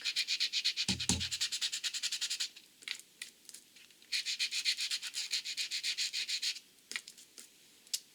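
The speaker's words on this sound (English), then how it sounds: "and use a sanding block." Rapid rhythmic scraping of sandpaper on a sanding block rubbed back and forth over a paper card in quick bursts, close up, with short pauses between strokes.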